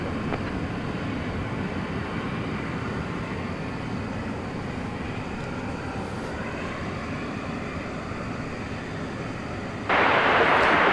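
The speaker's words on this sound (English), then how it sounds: "So the big 777 freighter makes a U-turn" A Boeing 777 freighter taxiing and making a U-turn at DFW Airport at night, a steady low jet engine rumble and whine at a distance, with a sudden burst of broadband hiss near the end.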